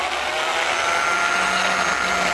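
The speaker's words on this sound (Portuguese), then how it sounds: "É muito bruta a furadeira, mano." A powerful electric drill runs continuously at full speed, a dense, steady high-pitched whine with no pauses, close and loud, with no voices over it.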